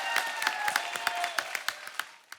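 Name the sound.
audience applause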